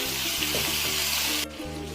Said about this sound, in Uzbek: Seli chiqishi bilan svetofor bolgarskiy qo'shib, bor yo'g'i 2 minutgina qovuramiz.